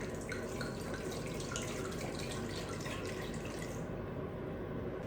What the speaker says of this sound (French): Je mets un demi-litre de vin.